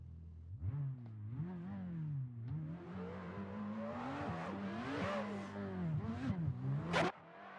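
Drift cars, a Toyota Supra and a BMW, rev hard at a drift competition event, engines rising and falling in repeated wailing sweeps that build to a loud peak before cutting off abruptly, close and without speech.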